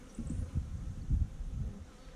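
Honey bees hum and buzz softly during a hive check as new bees emerge, a faint, low, steady drone with small swells.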